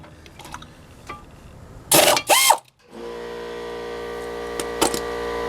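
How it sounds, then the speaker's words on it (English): Ratchet clicking as a General Motors rear brake caliper bolt is loosened and backed out, a close, loud burst of quick mechanical pawl clicks followed by a steady hum. "On General Motors, I take the bottom bolt all the way out."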